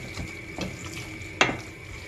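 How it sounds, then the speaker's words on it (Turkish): A spoon scrapes and stirs chicken keşkek in a large pot, giving a few soft clinks and one sharper knock against the side, faint and close, with no one talking. "ben kendim karıştıracağım"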